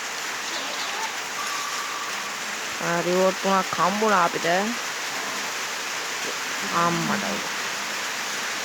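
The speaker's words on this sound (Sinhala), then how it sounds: "අපිට හොඳටම වහිනවා" Heavy rain in the Car Legends racing game, a steady broadband hiss running throughout while someone talks over it in short bursts.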